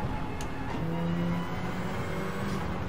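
A Toyota Celica rally car engine in a racing video game hums steadily at a moderate level, a continuous mechanical drone with no voices.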